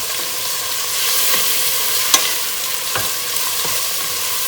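Chopped tomato with salt and turmeric frying in a pan, a loud continuous sizzle with occasional spoon scrapes and taps as it is stirred.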